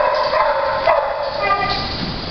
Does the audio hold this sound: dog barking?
yes